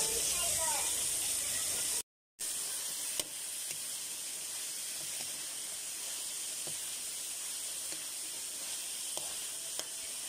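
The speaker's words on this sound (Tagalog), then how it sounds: "Nagsalang na nga pala ako dito ng pasta kasi alam nyo na matagal yung pakuluan kaya isinabay ko na rin ang paggisa." Aromatics sautéing in a pan for carbonara while pasta boils alongside: a steady, even sizzle and hiss runs throughout at moderate volume, with a brief dropout and a few faint clicks.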